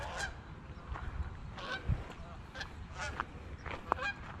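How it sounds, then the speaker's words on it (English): Migrating geese honk repeatedly at a distance as they pass overhead, scattered calls coming every half second or so over faint outdoor background noise. "geese pass overhead, migrating down to the south"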